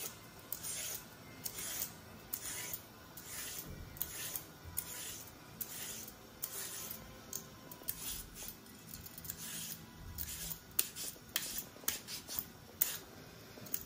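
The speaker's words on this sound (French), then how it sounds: "Il faut bien nettoyer et éplucher notre patate douce." A sweet potato being cleaned and peeled by hand gives quiet, repeated rasping scrapes in an uneven rhythm, close by and soft.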